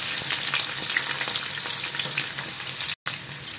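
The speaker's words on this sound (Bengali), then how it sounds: "আর আমি এখন পেঁয়াজটা ভেজে নেব" Chopped onion fries in hot oil in a kadai, giving a loud, dense, steady sizzle close up with a brief dropout near the end and no talking.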